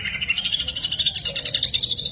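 A green leafbird (cucak ijo) sings a continuous, rapid warbling phrase of bright, rolling notes, close and fairly loud with a pulsing rhythm.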